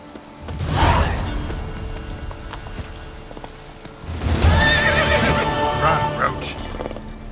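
A horse in The Witcher 3 video game whinnies loudly near the start and again midway, with hoof clatter and a galloping rush under game sound effects.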